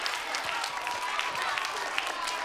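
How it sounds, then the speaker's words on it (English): Audience applause for three students at an elementary school show, a steady wash of many hands clapping with no break, filling the room at a moderate, even level. "give these 3 a round of applause"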